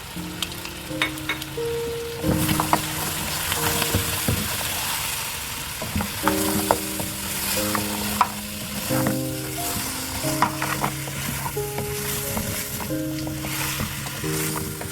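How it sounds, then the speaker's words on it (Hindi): Tomatoes, green chili, sliced ginger and yogurt fry in a pan for mutton yakhni pulao, with a steady sizzle broken by repeated scrapes and stirring clatters. Tonal clinks and background hum run throughout; nobody speaks. "इनको अच्छे तरीके से भूनना।"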